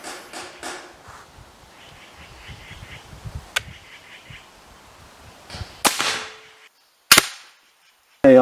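A Benjamin Pioneer Airbow arrow gun is cocked, giving a handful of sharp, loud mechanical snaps and clicks spaced a second or more apart over quiet background with faint chirps early on and no talking.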